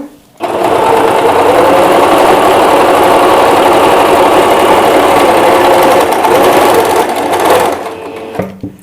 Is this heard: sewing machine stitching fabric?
yes